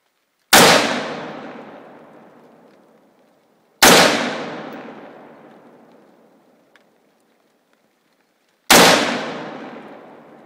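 Three loud, sharp gunshots ring out one at a time, several seconds apart, each trailing a long echoing decay that fades into near silence before the next.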